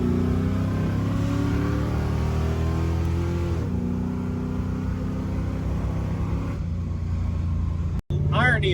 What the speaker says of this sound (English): Irony is not lost on us that we just full throttled the car with bad brakes.